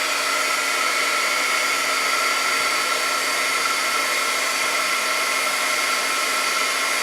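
A heat gun blows steadily on a stamped image in a bleaching craft project, giving a loud, constant, close whooshing roar with a fixed motor whine that never pauses for the full stretch, with no voices.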